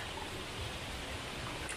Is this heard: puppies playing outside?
no